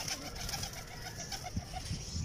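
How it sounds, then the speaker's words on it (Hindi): Pigeons coo in soft, repeated low murmurs at close range, part of a breeding pair of cupboard-kept pigeons, over a steady background hiss with no talking. "देखिए ये जोड़ा है अलमारी वाला कबूतर"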